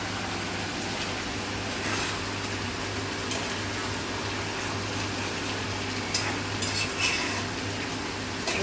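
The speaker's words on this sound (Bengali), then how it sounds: "দু চারবার নেড়ে নিয়ে আবার আমি ঢাকা দিয়ে হতে দেব" Chicken curry being stirred in a covered pan, a steady low sizzle with faint scraping of a spoon against the metal, a couple of sharper clinks near the end, no voices.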